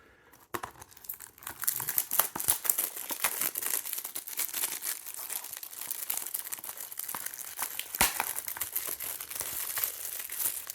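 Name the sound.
plastic shrink wrap being torn off a Blu-ray case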